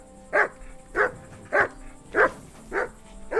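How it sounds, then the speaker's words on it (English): A dog in Kingdom Come: Deliverance II barks six times at an even, steady pace, each bark short and fairly loud and close. No one speaks. "Clever dog."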